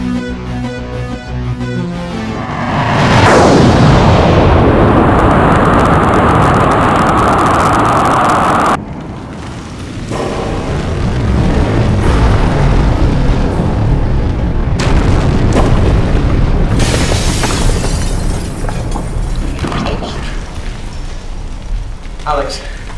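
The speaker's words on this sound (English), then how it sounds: "It must have been quite an explosion." A massive explosion from a device fired at a planet's equatorial region roars in a sci-fi short film, a loud sustained rumbling blast that cuts off abruptly, then a second broad surge of rumbling noise.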